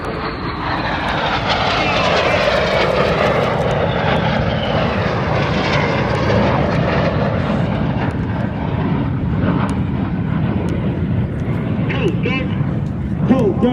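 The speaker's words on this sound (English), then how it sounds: "each aircraft will perform a 360-degree roll" Display aircraft pass overhead at an airshow marking the D-Day anniversary at Duxford, a loud sustained engine roar sweeping down in pitch as they go by, with commentary heard beneath.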